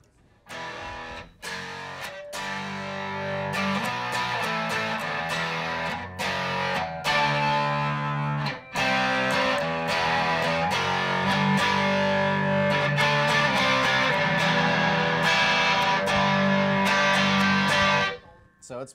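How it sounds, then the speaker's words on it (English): An electric guitar is played through a Paradox Effects overdrive pedal, giving a loud, gritty higher-gain tone with sustained chords and short breaks between phrases. "So it can definitely act as a distortion, not distortion, but a higher gain overdrive on its own."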